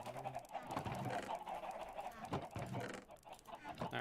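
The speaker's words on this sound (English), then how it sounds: "there are some chicken noises" Chickens in the video game Minecraft cluck and squawk in short, repeated calls at moderate volume, heard alone without talk.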